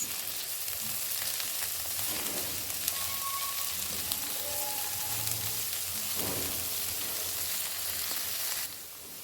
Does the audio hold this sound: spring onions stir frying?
yes